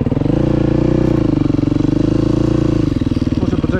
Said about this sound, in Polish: Po prostu tak lubię latać na kole.